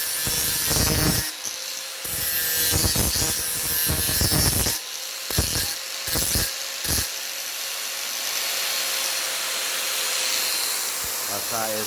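Power sanding of the rounded ends and corners of iron flat bar for a wrought-iron chandelier, heard as several short bursts of abrasive grinding with gaps between, followed by a steadier hum of workshop noise.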